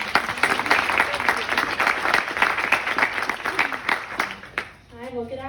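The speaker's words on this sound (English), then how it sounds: "let's give a round of applause to Lauren." An audience at the Birches groundbreaking ceremony at Perry Farm Village applauds steadily for several seconds, the clapping dense and continuous before tapering off as a voice begins speaking at the end.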